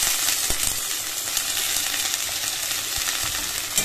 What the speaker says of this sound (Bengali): তো পেঁয়াজগুলো লাল লাল হয়ে এসছে, তো এবার দিয়ে দিলাম হচ্ছে টমেটো কুচি